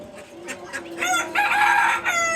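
A nearby native Bengali chicken on a rooftop farm clucks a few times, then lets out a loud, drawn-out crow that fills the second half.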